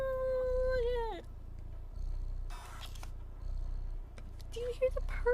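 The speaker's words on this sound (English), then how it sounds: "Do you hear the purr?" A cat purring in a cat video game, a soft, low rhythmic rumble beneath a drawn-out meow-like cry and scattered game sounds.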